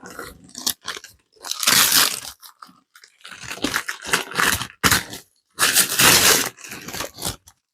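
Loud, close crackling and crumpling of stiff brown paper packaging in irregular bursts, with short quiet gaps between handfuls.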